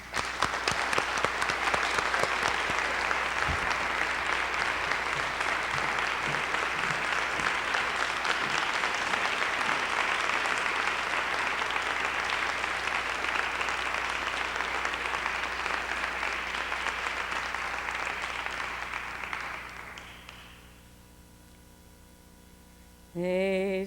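A large audience at the University of Richmond claps steadily and loudly for nearly twenty seconds to welcome Dr. Bernice Johnson Reagon, then the applause fades into quiet room tone with a brief tone at the end.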